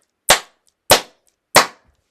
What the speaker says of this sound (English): I'm going to clap the hands together 3 times really hard.